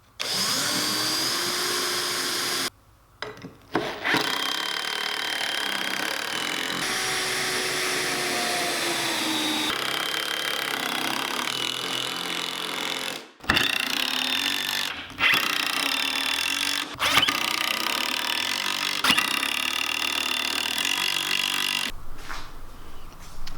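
Power saw cutting a board for a wine barrel rocking chair, a loud sustained whine in several long passes broken by brief pauses, with no talk.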